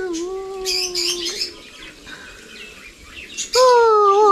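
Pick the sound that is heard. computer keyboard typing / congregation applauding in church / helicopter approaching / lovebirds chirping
lovebirds chirping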